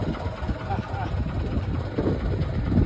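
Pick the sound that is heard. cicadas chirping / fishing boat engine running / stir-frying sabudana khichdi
fishing boat engine running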